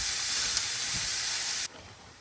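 Lean ground beef fries in a pan with a steady, soft sizzling hiss that runs evenly, then drops off suddenly and quiets.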